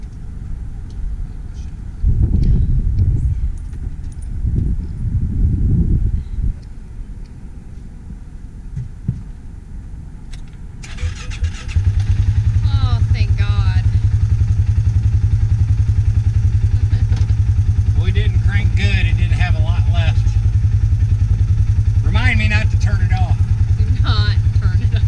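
An RV engine starting beside a river, with low rumbling attempts and then a steady, loud idling drone that continues to the end, and talk early on.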